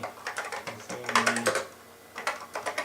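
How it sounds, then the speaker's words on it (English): Quick bursts of typing on a computer keyboard, close and crisp key clicks in two short runs separated by a brief pause. "I'm typing the wrong keyboard"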